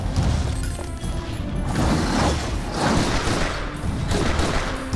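Dense gunfire with crashing impacts and booms from a magazine grenade in the Final Fantasy Type-0 HD battle, loud, continuous and chaotic with repeated bursts and swooshes.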